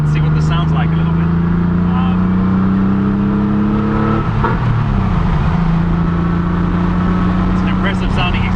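A Porsche 911 3.2 with a Bisimoto exhaust drives and revs, its loud continuous engine drone climbing and shifting in pitch close by, with someone talking over it.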